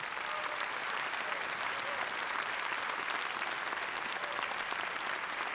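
Sustained applause from a large audience at an Armenian national music awards ceremony, an even wash of clapping that stays steady from start to finish.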